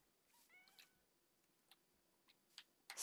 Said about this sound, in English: Special cat variant?